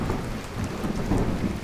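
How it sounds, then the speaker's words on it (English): Steady rain with low rumbling thunder in an animated railway episode, a dense continuous wash of rainfall and deep rolling booms with no talk. "Oh, I hope this rain clears by tomorrow."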